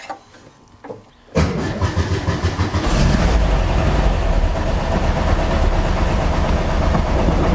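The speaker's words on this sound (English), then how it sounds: "I'm just going to start the engine, let it run for just a few seconds or so" A Speedster car engine cranks and catches after a quiet stretch with a couple of faint knocks, then runs steadily and loudly, its rumble building into a continuous close drone.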